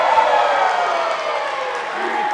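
A wrestling arena crowd cheering for Channing Thomas, a loud, continuous roar of voices and applause filling the hall from start to finish.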